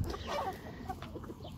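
A hen clucks softly and close by in a few short, quiet calls over faint background noise.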